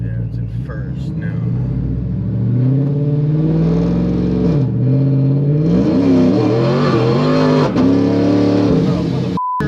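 A ProCharger-supercharged truck accelerates hard in first gear, its engine note rising loud and close with a broad rumble that swells and shifts pitch as it pulls. Talk runs through it.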